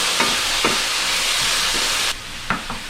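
Food sautés in a pan on medium heat, a loud steady hiss and sizzle with a few soft stirring knocks, the frying noise dropping off abruptly near the end.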